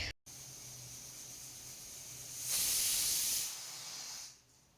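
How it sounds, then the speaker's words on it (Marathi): A pressure cooker whistles, releasing a loud, rushing hiss of steam for about a second, rising out of a quieter steady hiss and then fading back, while cooking pav bhaji. "इथे कुकरच्या शिट्ट्यासुद्धा यायला सुरुवात झालेली आहे"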